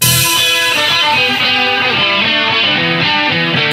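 Distorted electric guitar plays the closing riff of a song, a dense, loud, continuous run of repeated notes with no talk.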